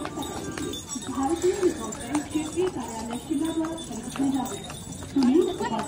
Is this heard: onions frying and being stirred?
no